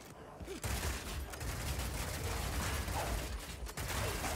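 Rapid Shot crossbow fire in Path of Exile, a fast continuous stream of mechanical clacking shots lasting several seconds at steady loudness, with no speech.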